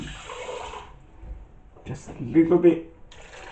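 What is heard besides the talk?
pouring a little water onto watermelon to blend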